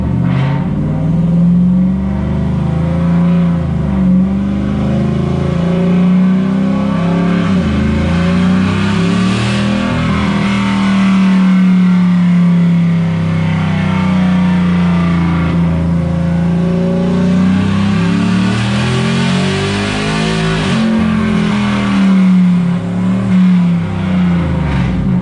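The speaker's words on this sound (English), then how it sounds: "Gonna get the truck up to speed." A 4th gen Ram truck fitted with Stainless Works long-tube headers runs on a dyno, its engine droning loud and close in a sustained pull as the pitch rises and falls through the run.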